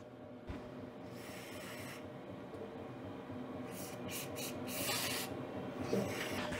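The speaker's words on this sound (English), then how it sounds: "I'm going to lube the bushings on either side" Spray lubricant hisses onto the bushings of an Ariens snow blower in a few separate bursts, the longer sprays near the end, over faint background rumble.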